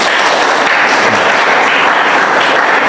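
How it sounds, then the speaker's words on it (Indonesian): A hall audience at an Indonesian nursing school anti-drug presentation breaks into loud, continuous applause, a thick wash of clapping that stays even and close throughout. "Tepuk tangan untuk kita semuanya."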